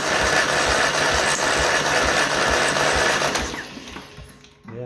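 The starter motor of a 1955 Ferguson 20 TVO tractor cranks its engine loudly and close up, with a steady rhythmic chugging and a slight screech from a worn front bearing, before winding down near the end.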